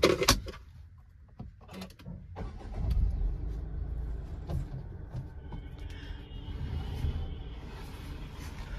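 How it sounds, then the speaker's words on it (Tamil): A flood-damaged 2023 Tata Altroz has its engine started after a couple of faint clicks and a thump, settling into a low, steady idle rumble that holds quietly close by. "ஃப்ரெண்ட்ஸ் இப்போ வண்டியை ஸ்டார்ட் பண்ணுறேன்."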